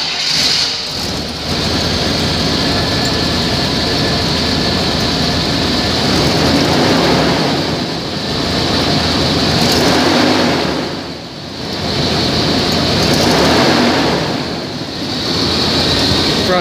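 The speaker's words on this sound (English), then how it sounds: "engine run video" A 1993 Chevrolet Suburban with about 267,000 miles runs its engine in a loud, steady drone that swells and dips in slow waves for around seventeen seconds, with no voices.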